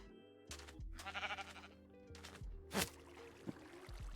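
Sheep bleating in a video game, a string of wavering, nasal cries over quiet looping background music, with a few brief sharper clicks between them.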